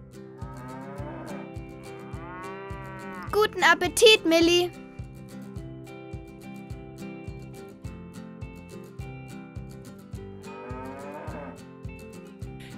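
Cows on a farm mooing while being given fresh hay at morning feeding, a couple of loud moos in the middle over soft background music, with a voice speaking briefly.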